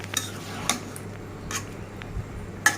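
A metal utensil clinks and scrapes against a pan while spiced young pumpkin and vegetables are stirred, giving a few sharp, close taps spaced irregularly over a quiet background.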